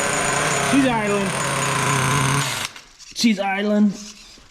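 A small nitro engine in a remote-control monster truck buzzes steadily at a high idle, then cuts out, followed by a voice speaking over quieter background.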